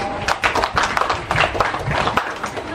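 A church audience at an HKBP resort gathering claps in a short burst of applause, a loose patter of hand claps rising and fading over a few seconds, with some voices mixed in.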